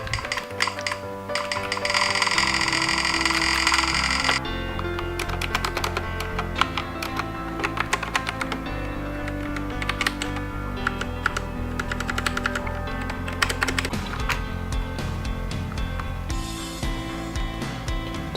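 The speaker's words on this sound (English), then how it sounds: "It is a model of a Mac M87 mechanical keyboard" Steady mechanical key clicks from a VELOCIFIRE M87 Mac-layout mechanical keyboard, a dense, continuous run of close taps and clacks lasting throughout with no talking.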